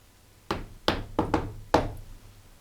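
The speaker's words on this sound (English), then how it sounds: "I'm going to knock on this wall right here" Five sharp knocks strike a wall in an old sanitarium, the first alone, then a quick cluster of three, then a final knock, each close and loud against a quiet room.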